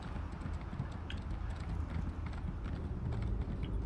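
Steady clip-clop of horse hooves in Elder Scrolls Online, a continuous rhythmic trot with faint clicking and a low rumbling ambience underneath.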